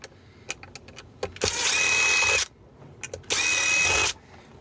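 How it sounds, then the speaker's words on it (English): A small electric screwdriver backs Phillips head screws out of a small e-bike battery case in two whirring bursts of about a second each, close up, with light clicks and handling noises between them. "So let's undo these screws, Phillips heads."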